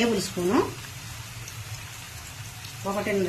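Onion frying in a pan for chicken gravy gives a steady soft sizzle across the whole stretch, with a voice talking briefly at the start and again near the end.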